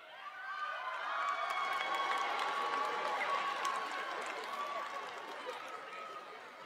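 Audience at the Whites Creek 2023 graduation applauding and cheering steadily, a dense crowd swell with whoops that rises quickly and holds for several seconds before easing slightly.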